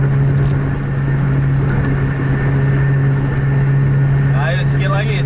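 A bus travels fast on a toll road in Aceh at 140 km/h, a loud steady engine drone and road roar from inside the cabin, with people talking over it.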